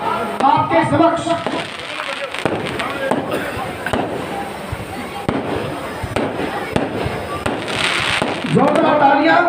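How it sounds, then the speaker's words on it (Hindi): Fireworks burst and crackle repeatedly at a Dussehra festival with Ravana effigy burning in Bulandshahr, sharp bangs and popping scattered through, while a large crowd and voices carry on underneath. "लगातार बुलंदशहर की आतिशबाजी"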